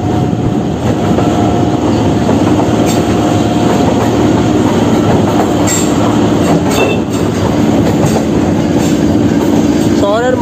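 A Kolkata Circular Rail local suburban train runs loud and close, a continuous rolling rumble with rhythmic wheel clatter and a brief squeal of wheels near the end.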